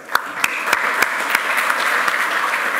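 Conference audience applause after a talk on software packaging, a continuous wash of clapping from a seated crowd, with a few sharper, closer claps standing out at irregular intervals.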